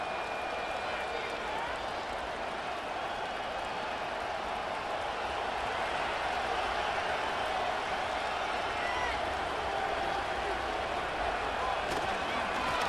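Broad, steady stadium crowd roar from the football video game Madden NFL 25, a constant wash of noise kept at moderate level, with no distinct cheers standing out.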